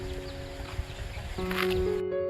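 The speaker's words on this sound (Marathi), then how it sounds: "इकडे बघा किती कोंबड्या" Chickens and chicks cluck intermittently at a village home, moderately close, over a steady tonal hum that shifts partway through.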